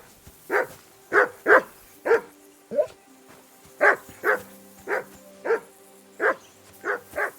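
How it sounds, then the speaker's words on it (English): A dog in the video game Kingdom Come Deliverance II barks a steady series of single, evenly spaced barks, moderately loud over a quiet background. "I assume you can hear that damn dog of yours barking."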